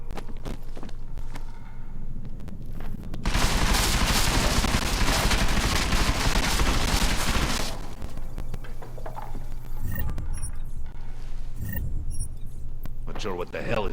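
Dense automatic gunfire in Deus Ex: Mankind Divided, a burst of rapid shots lasting a few seconds, then scattered footsteps and movement, with voices talking throughout.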